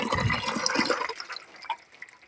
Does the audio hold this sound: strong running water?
yes